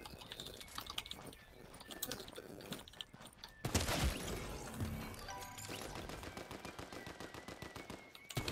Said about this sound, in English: Getting shot by two different players